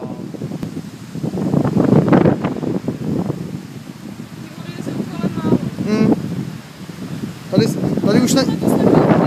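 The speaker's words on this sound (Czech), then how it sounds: "protože hrozně fouká" Strong wind gusting across the microphone on a hilltop hiking trail in Podyjí, Czech Republic, a loud continuous rumbling buffet that swells and eases, with people talking over it at times.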